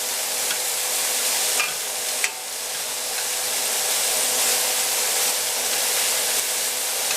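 Shrimp frying in butter and olive oil in a pan, a loud continuous close sizzle with a couple of brief scraping knocks as the pieces are turned over, no voices.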